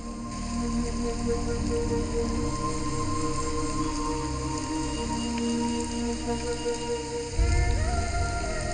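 Steady rain falls throughout, a continuous wash of patter heard alongside background music, with a low thump near the end.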